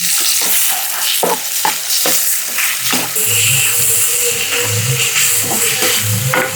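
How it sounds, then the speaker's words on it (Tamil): Onions stirred in hot oil in a pan, for a mutton tripe (kudal chukka) dish: a steady loud sizzle of frying with repeated scraping stirs, close up, and no voices. "ஆயில் ஹீட் ஆகிடுச்சு. இப்போ நாங்கள் வெங்காயத்தை போட்டுக்கிறோம். நல்லா மிக்ஸ் பண்ணிடுவோம்."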